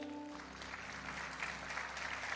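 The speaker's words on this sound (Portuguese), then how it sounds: "Vamos aplaudir Jesus" A church congregation applauding during a service, a sustained wash of clapping at moderate level, with a held low tone fading out at the start.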